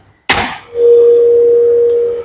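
Tuning fork struck for a resonance tube experiment in a physics lab: a sharp knock, then a pure steady tone that swells and rings on evenly for over a second, close and clear.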